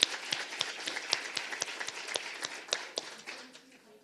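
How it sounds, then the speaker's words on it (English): Audience applause closing a public health policy forum, a dense run of many hands clapping at moderate level that thins out and fades over about four seconds. "One more round of applause for our panelists"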